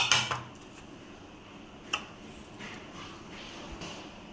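A few clinks of a utensil against a bowl while macaroni pakora ingredients such as dried coriander, cumin and chopped onion are mixed, with sharp taps near the start and another around the middle over a quiet background.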